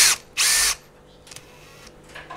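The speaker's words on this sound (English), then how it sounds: "Put this in the drill." A power drill fitted with an angle attachment and a hex shank bit whirs in two short, loud bursts, the second lasting about a third of a second, followed by quieter handling noise.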